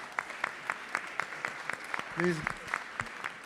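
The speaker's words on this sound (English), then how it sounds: "Please give them a round of applause." A small audience at a Dearborn Community Council mayoral debate claps for board members, sparse rhythmic claps at a distance with a voice briefly breaking in midway.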